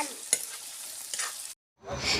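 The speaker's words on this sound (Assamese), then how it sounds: "চব্জি গাহৰি মাংস আৰু তিতা কেৰেলা আলু দি ভাজি আছোঁ" Pork with bitter gourd and potato sizzles in a pan over an open fire, with a few soft scraping stirs before a brief silence and then a return of the frying hiss.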